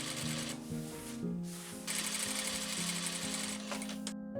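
A sewing machine runs stay stitching along the edges of fabric pieces for Regency stays, humming steadily close up with a few short pauses and speed changes.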